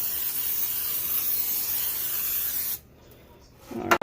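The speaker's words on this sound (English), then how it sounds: "I'm going to go ahead and spray my pan here" Cooking spray hisses steadily from a can onto a pan for a few seconds, a loud, near, continuous spray that then cuts off, followed by a short clatter as the can or pan is set down.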